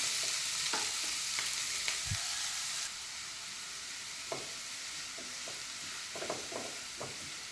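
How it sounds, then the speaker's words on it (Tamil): Beans and mixed vegetables for veg cutlet sauté in oil in a pan. The sizzle is steady and close, with the scrape and tap of a spatula stirring now and then. "கொஞ்சம் பீன்ஸு எல்லாத்தையும் போட்டு இதுலேயும் வதக்கிக்கலாம்"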